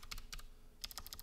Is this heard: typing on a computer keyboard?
yes